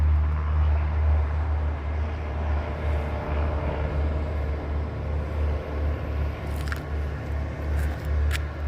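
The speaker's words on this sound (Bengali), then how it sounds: "বিমানটি উড়ে গেল" An airplane flying overhead near a flight training and pilot supply area, a loud low steady drone that rumbles throughout with a few faint metallic clicks toward the end.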